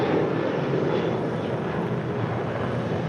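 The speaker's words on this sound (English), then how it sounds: "This is another flight headed out to Puerto Vallarta. It's Alaska 1100, 737-800." Alaska Airlines Boeing 737-800 jet at LAX, a steady broadband engine roar holding loud and constant throughout, with no voices over it.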